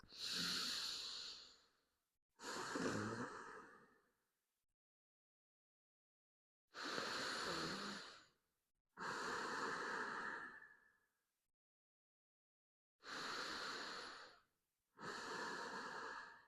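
Slow, deep breaths during a seated yoga pose for shoulder stress relief, six distinct close inhales and exhales separated by silent pauses, soft and unhurried with no talking.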